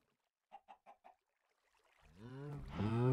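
Minecraft chickens clucking in CubeCraft SkyBlock: four quick, evenly spaced clucks, then a louder, longer rising squawk that swells toward the end, with no talk.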